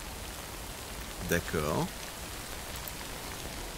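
Steady, soft rain hiss from the Death Stranding video game, even and continuous. A voice briefly speaks a single word partway through.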